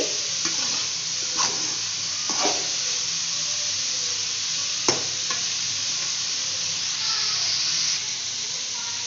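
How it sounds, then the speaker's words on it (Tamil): Vegetables sauté in a hot pan for hotel-style chicken rice, giving a steady, even sizzle throughout with occasional scraping strokes as they are stirred. "இப்போ இதெல்லாம் நல்லா வதக்கிக்கங்க"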